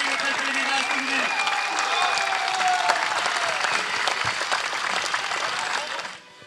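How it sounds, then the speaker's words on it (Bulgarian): Sustained crowd applause at an amateur league tournament awards moment, dense steady clapping from many people lasting several seconds before fading out at the end. "Аплодисменти за Пламен Иванов"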